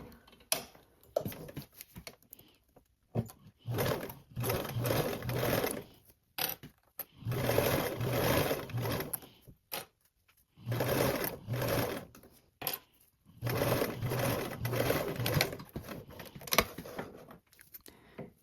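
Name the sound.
sewing machine stitching a seam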